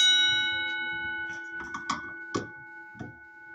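A screwdriver taps a newly installed Simplex fire alarm bell several times. Each tap gives a sharp metallic strike, and a steady ringing tone hangs faintly underneath throughout.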